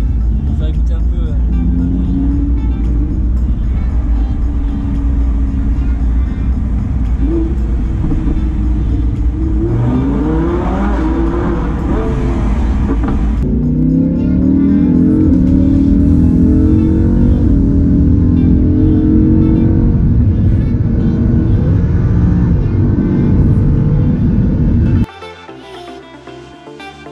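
A Lamborghini Huracán LP-580 in sport mode driving through a short tunnel, its engine droning loud and close, then revving hard with rising pitch sweeps before cutting off near the end, with talking throughout.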